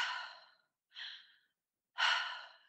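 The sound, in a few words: circular breathing, exhaling out through the mouth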